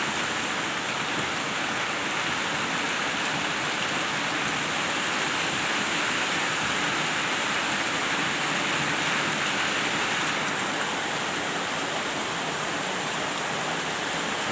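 Heavy rain pouring down steadily, a dense, loud, unbroken hiss that keeps up with no pauses.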